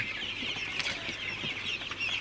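Sonali super hybrid chickens on a farm cluck and chatter as a steady flock murmur, with occasional wing flutters and no voices.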